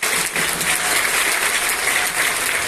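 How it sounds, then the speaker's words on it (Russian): An audience applauds at a chess event, dense and steady clapping that carries on for the whole stretch at a fairly loud level. "Вот так, аплодисменты."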